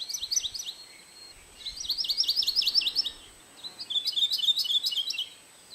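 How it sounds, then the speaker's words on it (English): A Maui parrotbill (kiwikiu) sings short, bright chirping phrases in three bursts separated by pauses, clear against quiet background. "The endemic kiwikiu, or Maui parrotbill, is one of the most endangered species."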